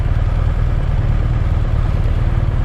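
A motorcycle ridden slowly at low revs during rider training near horses, a loud, close, steady low engine rumble with no rise in pitch.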